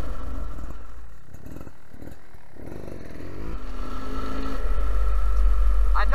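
A 2019 Beta 300RR Race Edition two-stroke dirt bike being ridden in rain mode, its engine rumbling close, dropping to a choppy lull and then building to a louder, sustained drone.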